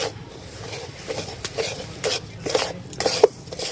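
A spoon stirring melting sugar for caramel in a pan over low heat, giving soft scraping and light clinks against the pan in an irregular rhythm, close and fairly quiet.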